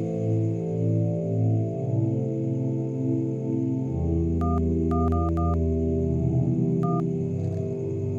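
Telephone keypad dialing: a run of short, evenly spaced beeps over a low steady hum, then a final isolated tone, loud and close.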